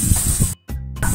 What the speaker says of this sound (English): I literally spray fry light in it